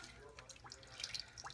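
Warm water, two and a half cups, pours from above over tomatoes in a pan, a soft, faint splashing trickle with light dripping accents, fairly quiet and close.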